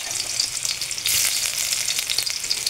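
Garlic and onion fry together in hot oil for adobong kangkong, a steady bright sizzle with crackling spatters and a brief surge of louder hissing, close up and with no talking.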